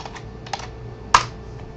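A few quiet keystrokes on a computer keyboard, sparse and close, with one sharper tap near the end over a faint steady hum.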